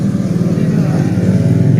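A Honda Beat scooter engine runs rough and loud up close, sputtering unevenly under full throttle, a fault that makes it falter and die when the throttle is opened fully.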